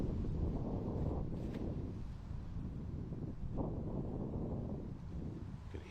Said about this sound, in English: You can hear the wind gusting.